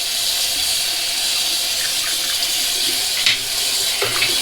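Tap water runs steadily under a razor being rinsed after shaving with cream, a continuous close hiss with small splashy bursts as the blade is held in the stream.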